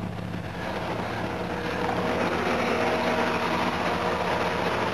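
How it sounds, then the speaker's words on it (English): A Jaguar car engine runs steadily at close range with squeaky belts, a broad continuous mechanical hum with a faint high squeal riding on top. "Belts are a bit squeaky."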